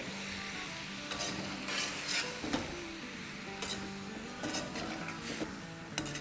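Vegetables sautéing with sriracha hot sauce in a hot pan, a steady sizzle broken by several sharp scrapes and clatters as a utensil stirs the mix.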